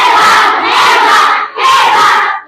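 Class 5 primary school pupils shout a group chant together before prayer, two loud unison bursts with a short break between them, close and energetic.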